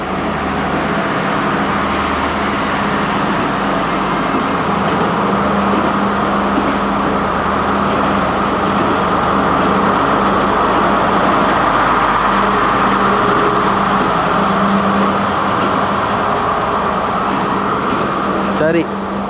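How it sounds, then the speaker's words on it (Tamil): Train running past at a railway station on the Ella line in Sri Lanka, a continuous loud rumble and hum that holds steady throughout with little change, close by, voices faintly mixed in. "ட்ரெயின் போகுது பாருங்க."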